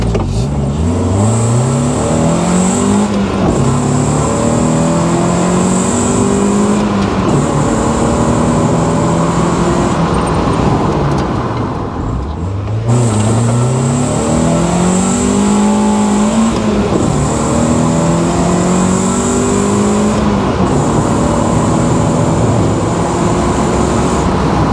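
A Mazda MX-5 Miata 1.8 accelerates hard from 0 to 60 mph through three gears, engine revs climbing, dropping at each shift and climbing again, loud and close throughout.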